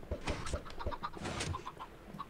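Chickens cluck in a video game, a few soft low clucks and short bird calls that are faint and fairly close.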